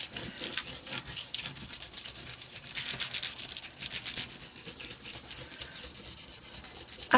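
A spoon burnishes deco foil on a paper craft tag with quick, close, scratchy rubbing strokes, irregular back-and-forth friction swelling and fading in short bursts.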